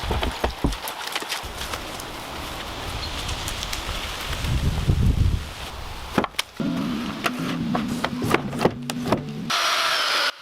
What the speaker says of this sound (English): Longitudinal notches are being precisely carved at the bottom of each log